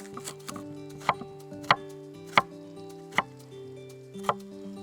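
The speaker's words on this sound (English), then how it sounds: "Then we're gonna chop some red onions." A knife chops red onions in a handful of sharp, separate strikes spaced roughly half a second apart. The cuts sound close and crisp over a quiet tonal background.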